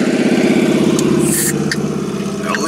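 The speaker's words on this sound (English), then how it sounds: "we got a Harley going by" A Harley motorcycle engine rumbles steadily nearby with a throbbing low chug, gradually fading slightly as it passes.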